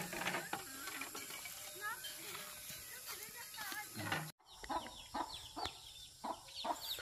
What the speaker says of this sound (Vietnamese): Mình có hai đàn gà này à?